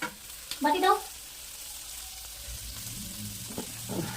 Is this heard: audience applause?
no